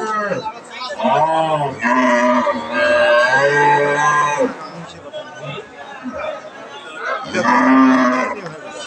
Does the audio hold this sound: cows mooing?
yes